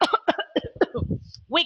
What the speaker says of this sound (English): we can cough,